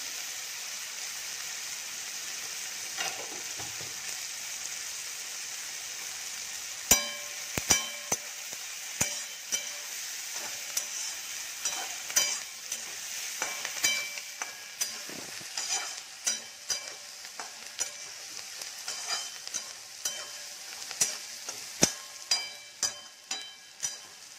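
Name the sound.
cumin seeds sizzling in hot oil in a pan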